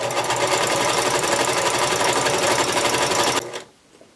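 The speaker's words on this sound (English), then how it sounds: "I'm going to take this to the machine and I'm going to do a 1/4-inch stitch, corner to corner, right along this edge here" Fabric scraps are sewn with a quarter-inch seam corner to corner on a loud, nearby sewing machine that whirs in a steady rapid stitch for over three seconds before stopping.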